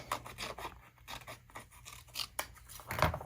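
Scissors cut rough random shapes from scrapbook paper in a run of close, crisp snips and rustles, with a sharper snip near the end.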